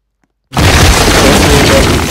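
Sudden loud water explosion in the video game Sodor Online bursts in after silence, a roaring, crackling blast that stays dense and sustained rather than fading quickly.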